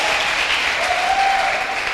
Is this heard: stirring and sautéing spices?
no